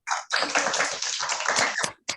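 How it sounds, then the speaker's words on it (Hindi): Audience clapping for a student speaker at an inter-school public speaking competition, a short burst of close, dense clapping lasting about two seconds. "सानवी के लिए तालियां हो जाएं।"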